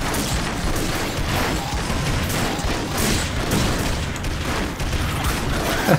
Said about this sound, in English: Dude, there's so many explosions.